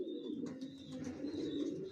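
Racer pigeons of a pure breed coo nearby in a low, continuous throaty rumble, with a faint high chirp drifting above it.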